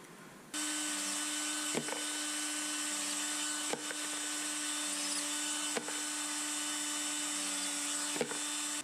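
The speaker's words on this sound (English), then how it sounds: "the final stage in the brass prep will be to remove the inside burr, which we use with this tool here, deburring tool" A steady mechanical whir runs throughout as a deburring tool cleans the inside burr from .223 brass cases for reloading, broken by a sharp click roughly every two seconds as each case is changed.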